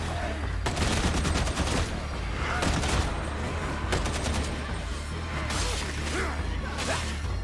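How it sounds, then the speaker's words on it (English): A machine gun in Warhammer 40,000: Darktide fires in several loud, rapid bursts with short pauses between them, each rattling volley close and dominant. "This is a fucking machine gun."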